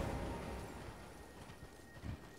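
A horse's hooves clip-clop faintly in a video game set in ruins, soft irregular footfalls under a low ambient bed, with a slightly louder thud near the end.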